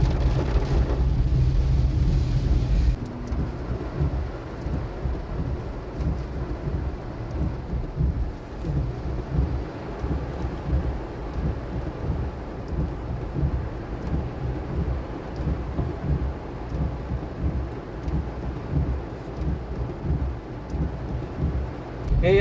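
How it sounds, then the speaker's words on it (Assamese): Heavy torrential rain pours down in Nazira, Assam, a dense, steady roar that stays loud and unbroken throughout, with a deeper rumble in the first few seconds that eases off. "আৰু ধাৰাসাৰ যি ধৰণৰ বৰষুণ দিছে"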